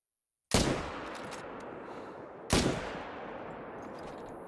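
Two sharp, loud rifle shots about two seconds apart in the hunting game The Hunter: Call of the Wild. Each crack is followed by a long, fading rolling echo across open terrain.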